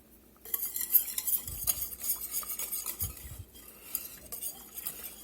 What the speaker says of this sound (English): Just trying to go through and scrape those bits off the bottom of this pot where we sauteed that bacon